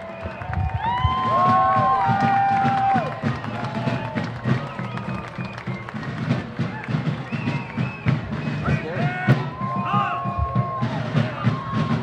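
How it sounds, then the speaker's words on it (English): At the Nevada City Mardi Gras parade, a crowd cheers and claps for military veterans, a steady wash of applause with scattered whoops and thumps, and voices call out through the noise. "How about a round of applause for those who have served our country with their blood?"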